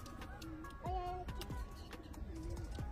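Pigeons imported from Bangladesh coo softly in a repeated rolling pattern, a few close calls over a low background hum with no talking.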